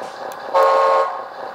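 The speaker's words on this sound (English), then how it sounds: "Horn." Horn tone from a sound module in a JDM 1/14-scale RC hydraulic truck, a single steady electronic toot lasting about half a second, fairly loud and close, with faint background hiss before and after.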